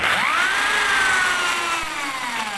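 A power drill whirs loudly, its pitch rising quickly then slowly sagging as it drills out a metal blind rivet set in drywall, alone and close.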